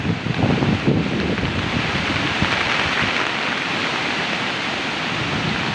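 Floodwater rushes in a steady, broad roar, close and constant throughout, with no voices over it.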